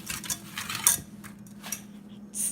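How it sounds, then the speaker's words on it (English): A spoon stirring saffron chocolate oatmeal in a pot, with a few quick close metallic clinks and scrapes against the sides over a couple of seconds, no talking. "I'm going to stir it all together"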